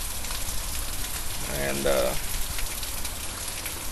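Heavy rain pounds down steadily during Arkansas flooding, a dense continuous hiss throughout while a voice briefly speaks in the middle.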